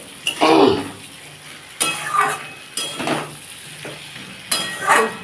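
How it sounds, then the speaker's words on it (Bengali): Rohu fish curry with potatoes and drumsticks fries in oil in a pan as a spatula stirs it in four or five distinct scraping strokes over a soft, continuous sizzle, close by. "যতক্ষণ না এটা থেকে তেল বেরোবে ততক্ষণ বন্ধুরা এটাকে ভালো করে কষতে হবে"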